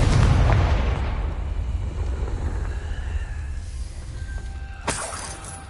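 A Confringo fire spell goes off in Hogwarts Legacy with a loud, roaring blast. The heavy boom and crackling debris fade slowly, and a sharp crack follows near the end.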